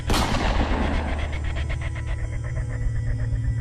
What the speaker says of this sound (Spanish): Como respuesta, el asesino nocturno le dispara en la cabeza.